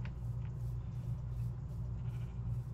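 Sheep in a video game bleat in a low, steady drone that repeats in short pulses, sitting at moderate volume with no voices over it.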